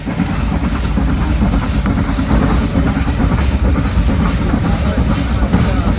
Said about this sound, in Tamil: ஆனால் ட்ரெயின் வந்துட்டு 1 2 3 4 5 6 பெட்டி தானே ஒன்று ட்ரெயின்.